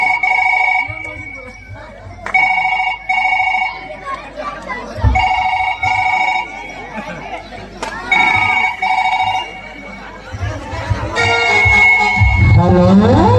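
A telephone rings after a call is placed, in repeated electronic ringtone bursts with short gaps, loud and close, while several people talk and chatter over and between the rings.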